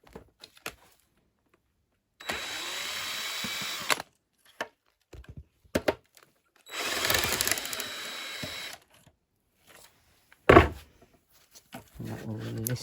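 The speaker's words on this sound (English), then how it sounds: "to remove this motor cable, you have to unscrew the fender" Power screwdriver unscrewing the fender on a KingSong S22 electric unicycle, two sustained whirring bursts of about two seconds each with short clicks and handling noises between them, close and fairly loud.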